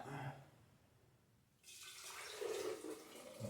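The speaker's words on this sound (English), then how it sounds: "Ball jar funnel increases the circumference, okay, as you're pouring stuff into the jar so you don't make a mess" Celery juice is poured through a Ball jar funnel into a jar, a soft splashing, gurgling flow that starts after a quiet pause and runs steadily to the end.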